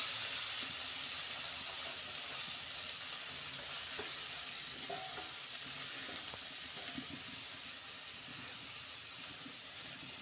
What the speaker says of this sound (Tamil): நல்லா கடுகு பொரிஞ்ச உடனே நம்ம கட் பண்ணி வச்ச பீன்ஸும் அந்த ஜாக் ஃப்ரூட்டோட கொட்டையும் போடுவோம்.